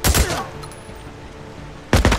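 Gunfire in the PS4 video game Days Gone comes as a rapid burst of shots, a quiet gap, then another loud burst.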